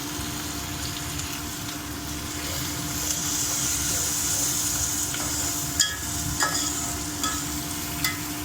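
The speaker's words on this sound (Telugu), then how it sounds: "బాగా ఫ్రై అవ్వాలండి." Okra and turmeric frying in a pan, a continuous loud sizzle with a low steady hum beneath, and a few spatula clinks and scrapes toward the end.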